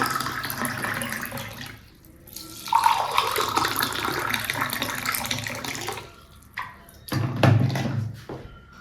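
Hot water poured from a kettle into a cup for drinking with honey, a steady splashing stream that pauses briefly, then resumes in shorter pours near the end, with no talking.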